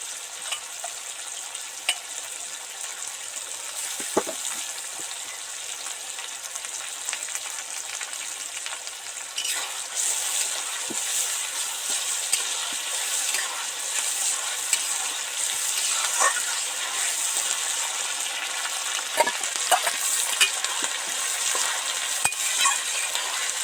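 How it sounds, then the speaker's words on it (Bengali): Onion, tomato and ginger-garlic paste frying for mutton curry, a continuous close sizzle with occasional scraping stirs and small utensil clicks against the pan, with no talking. "রসুনের পেস্ট দিয়ে দু তিন মিনিট ভালো করে ডিপ ফ্রাই করে ভেজে নিলাম"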